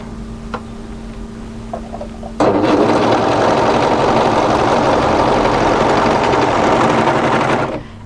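An overlocker stitching the side seams of a camisole facing starts abruptly after a quiet moment, then runs at a fast, steady rattling whir for about five seconds before stopping.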